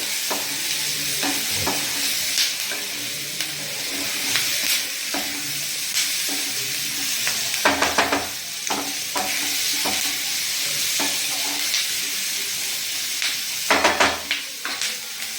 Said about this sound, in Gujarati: ગેસની ફ્લેમ ફરી ફૂલ કરીશું અને આને સાંતળી લઈશું આ રીતે